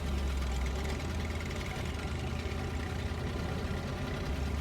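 GMC MH9500 truck engine running in the Snowrunner video game, a steady low rumbling drone with a constant throaty rattle, loud and unbroken throughout, with no talk.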